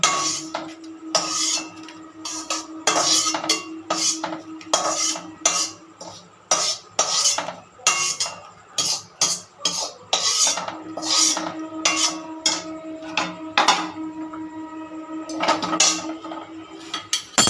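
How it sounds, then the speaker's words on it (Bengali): Flattened rice (chira) being fried homestyle and stirred in a pan, with a close, busy run of metallic scraping and clinking strokes against the pan in irregular bursts and no voices. "দেখুন এতটা ভাজলাম, আমি আর কিছুটা ভাজবো, বেশি ভাজবো না।"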